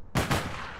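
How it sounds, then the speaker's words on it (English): Two close, loud gunshots ring out in quick succession in the video game APB Reloaded, each a sharp broadband crack trailing off into a short decay. "he's shooting me. They're all shooting me."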